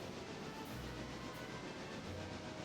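Video-game train rolling along rails past a junction, a quiet steady rumbling hiss with low tonal hum swells, faint and continuous without clear wheel clacks.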